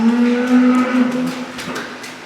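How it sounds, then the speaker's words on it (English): A dairy cow lets out a loud, close moo as the herd arrives at the milking parlour, with fainter shuffling and clanks of other cattle behind it. "And I think those cows are pretty much here."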